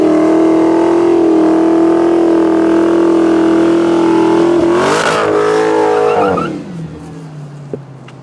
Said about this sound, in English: I'm going to do 1 foot on the brake and 1 foot on the gas so we can warm these tires up properly